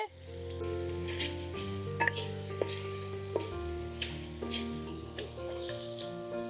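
Onions frying with turmeric in a pan make a soft, continuous sizzle under a steady tonal drone with shifting pitches, broken by a few light utensil clinks.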